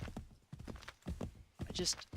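In Assassin's Creed 3, a horse's hooves clip-clop in an uneven run of thuds, close and moderately loud, under a person's ongoing talk.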